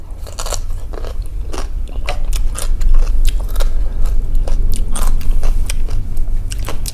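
Loud, close crunching and chewing of spicy Isan papaya salad with salmon, pickled fish sauce and bitter gourd, with steady wet bites and crisp crackles throughout and no talking.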